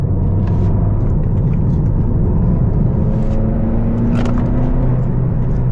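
A 2020 Honda Civic Si engine pulls steadily in third gear on a canyon road, a loud continuous cabin rumble and drone with a faint rising whine, no speech over it.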